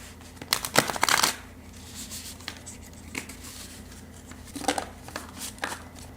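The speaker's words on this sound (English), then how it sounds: "I like to shuffle a little bit on camera" Cards riffle and flick in a few quick bursts, close and fairly soft, with quiet pauses between handfuls.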